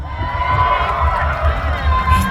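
A festival crowd at a university concert cheers and shouts continuously, a dense roar of many voices with sustained music tones running through it, loud and close throughout.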